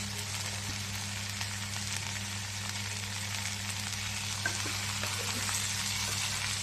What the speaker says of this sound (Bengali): বেগুনগুলো ভাজা ভাজা হয়ে যাচ্ছে।